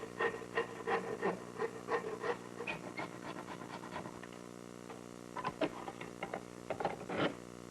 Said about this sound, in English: here I'm using my dovetailing saw to notch the bottom of the tenon